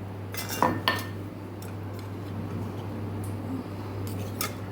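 Garlic chutney is scooped into a small bowl in a home kitchen: a couple of sharp spoon-on-bowl clinks and scrapes near the start, then soft scraping over a steady low hum.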